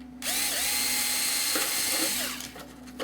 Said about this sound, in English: we're going to drill the holes through there